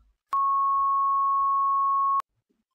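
A pure 1100 hertz sine tone, one harmonic in a synthesized banjo sound, holds steady and clean for about two seconds, then stops abruptly, with silence on either side.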